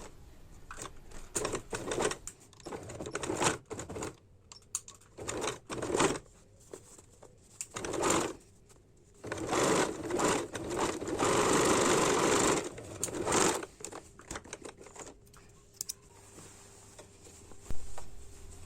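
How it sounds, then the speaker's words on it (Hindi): A sewing machine stitching the side seam of a small baby panty, heard in several short bursts of rapid, close stitching separated by brief pauses; no talking. "अब यहाँ पर साइड पे यहाँ पे एक सिलाई लगा दूँगी।"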